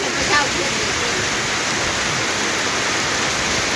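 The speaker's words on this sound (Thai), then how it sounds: "ฝนสาดพร้อมเลยมาด้วย" Heavy storm rain pours and blows in over rice fields in a dense, loud, continuous roar that stays even throughout.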